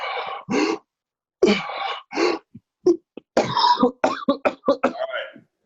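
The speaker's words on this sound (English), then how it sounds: "You may cough." A person coughs and clears their throat repeatedly during a breathing exercise, in close, separate bursts of uneven length with short silent gaps between them.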